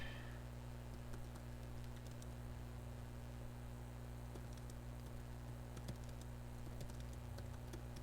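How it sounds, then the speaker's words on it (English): Rapid keyboard typing clicks in short irregular bursts, faint and soft over a steady mains hum and background hiss, with no talking. "Yes, and I will type back."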